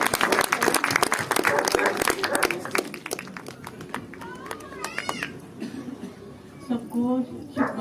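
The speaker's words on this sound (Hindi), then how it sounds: "जोरदार तालियां इनके लिए" Applause for teachers at a special school's annual function, with dense clapping and crowd noise from a large audience filling the first few seconds, then fading into general murmur and children's voices.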